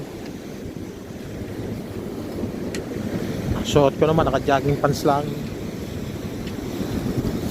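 Cold wind blows steadily by the sea where large rocks line the shore, a constant roar of buffeting on the microphone, while a person talks partway through.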